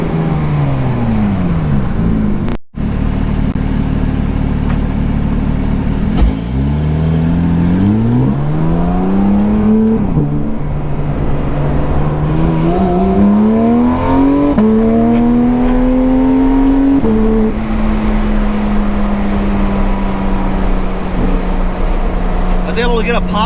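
A Porsche GT3 RS fitted with an MBRP exhaust, heard close and loud as the engine revs climb and fall through repeated shifts and downshifts, with a crackle on one shift.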